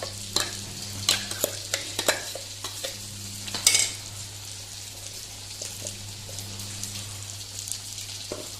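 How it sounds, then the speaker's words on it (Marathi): Green chilli clam sukhe being stirred in a pan gives a soft sizzle under clusters of scraping and clinking strokes near the start, then settles into quieter, sparser stirring with no voices. "ढवळपाचें आनी धांपून दवरपाचें"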